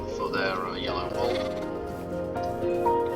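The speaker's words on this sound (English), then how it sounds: "Go shear the sheep for their yellow wool." Minecraft sheep bleat several times in a game world with yellow wool being sheared, the wavering cries fairly close and loud, mixed with someone talking over them throughout.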